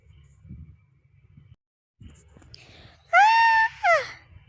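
A woman's sharp, high scream of fright at a mouse in an audio drama, two loud bursts after a quiet stretch with faint murmuring and small rustles before.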